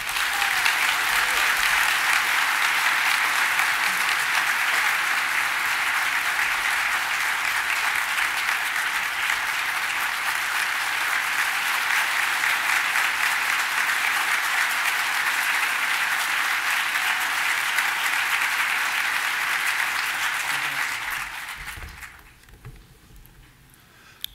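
An audience applauds YMCA Peace Medal recipients with loud, sustained, even clapping that holds for about twenty seconds before tapering off.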